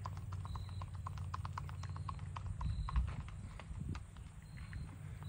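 Hooves of a ridden Missouri Fox Trotter gelding, 10 years old, clip-clopping in a steady, even gait, close and moderately quiet, with a soft horse whinny and no talking.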